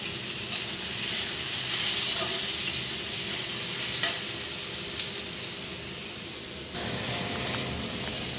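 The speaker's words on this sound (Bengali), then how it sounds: "এটা ঝিঙে আলু ভাজছি" Ridge gourd and potatoes fry in a pan with a steady close sizzle and hiss, broken by a few scraping stirs and small clinks of the utensil, continuing without any talking.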